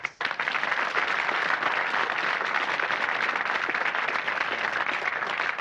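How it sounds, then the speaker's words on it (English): Studio audience applause on the 1984 British game show Blockbusters as new school contestants are introduced, a sudden onset into steady, dense clapping from many hands that holds at full strength throughout. "Introducing the new contestants. A round of applause, please."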